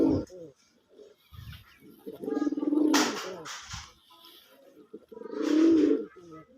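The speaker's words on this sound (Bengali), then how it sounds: "ডাকতে আসেই তো ভাই ডাকতেছে ও এত তেজি একটা নর কবুতর" A strong male pigeon of the red-coloured Golla breed coos in repeated deep, throaty bursts, loud and close, with quieter pauses between calls and no voices present.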